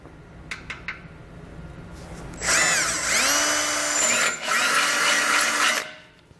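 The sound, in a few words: drilling hole through metal bumper beam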